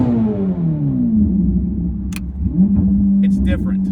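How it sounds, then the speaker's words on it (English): Corvette ZR1X engine revving under an overpass, a deep rumbling drone that falls in pitch and then swells again, loud and close, with someone talking over it. "Here's an overpass. We're gonna rev it."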